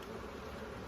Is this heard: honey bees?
yes